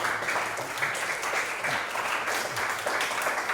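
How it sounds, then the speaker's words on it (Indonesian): Classroom applause from a group of pupils, a continuous patter of many hands clapping at an even level for several seconds. "Tepuk tangan."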